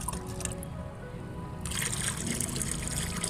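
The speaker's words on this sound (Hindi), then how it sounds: "ये पॉट को रख दिया हमने और इसमें चला गया है चिड़िया का पानी" Water is poured into a pot set out as a drinking spot for birds, a steady trickling fill that grows louder and brighter partway through, heard close with no talk over it.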